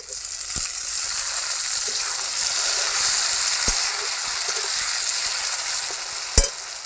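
Chopped tomato goes into hot oil with frying tilapia and green chilies for a Bengali masala: a steady, loud sizzle and crackle, with a few sharp stirring clacks from a spoon against the pan.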